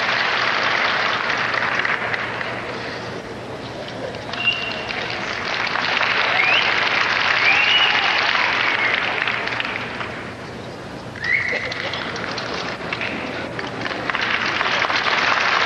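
Audience applause fills the arena during the herding group at the 1987 Westminster Kennel Club dog show, a steady, dense roar of clapping that swells and dips over the whole stretch.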